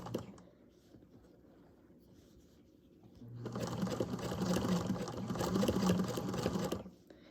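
A 1953 Singer Featherweight sewing machine fitted with a multibinder stitches bias binding onto an apron, its steady motor whir starting after a few quiet seconds and running continuously, loud and close, before stopping near the end.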